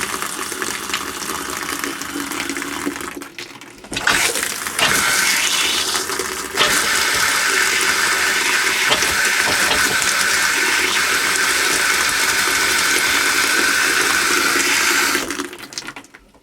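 Shower running inside a camper, a steady loud rush of water that sprays continuously for most of the stretch, with a brief dip and restart near the beginning before tapering off at the end.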